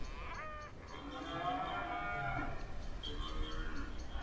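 Several cattle moo in overlapping, drawn-out calls, fairly close and loud, with a steady outdoor rustle underneath and no talking.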